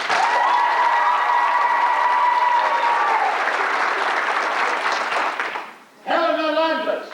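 A theatre audience at a musical applauds to vote for the Princess Puffer, a loud, dense burst of clapping with cheering voices rising through it, briefly dipping before a singer's held notes break in.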